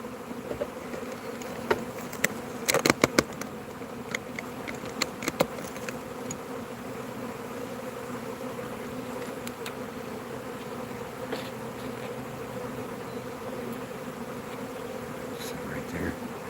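A swarm of bees gives off a low, steady outdoor buzz that holds throughout, broken by a few faint clicks and knocks early on.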